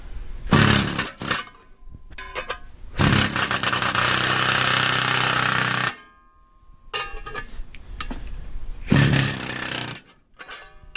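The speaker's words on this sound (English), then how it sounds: "Here is a pneumatic chisel. See, it's got air attached to it, and it's got a chisel on the end. Watch what it does to this piece of metal." A pneumatic air chisel hammers into a piece of metal in loud, rapid bursts, with long sustained runs broken by short pauses and one quieter stretch before a final burst.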